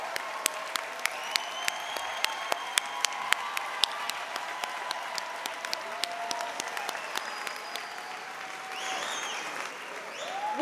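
Steady applause from a large crowd at a spring college commencement ceremony, dense clapping with sharp individual claps standing out, sustained and moderately distant throughout, swelling slightly near the end.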